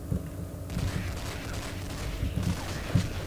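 Gunfire in the shooter game Counter-Strike Nexon Zombies, a stream of rapid, fairly quiet shots and thuds that repeat irregularly across the clip, with no talk.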